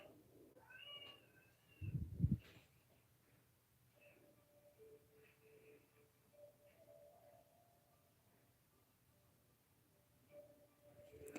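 A house cat gives a short, fairly faint meow near the start, followed by a brief thump and quiet room hum with soft scattered tones.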